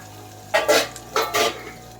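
Ginger garlic paste frying with onions in a pan for aloo kurma, heard as two loud bursts of sizzling and stirring scrapes between quieter moments, with no talking.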